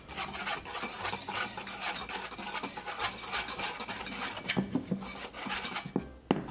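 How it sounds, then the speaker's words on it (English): A whisk scrapes and rasps continuously around a bowl of dry cookie ingredients, a close, fairly quiet brushing swish with a few small clinks against the bowl and no speech. "Then we're going to use a whisk and mix it all together."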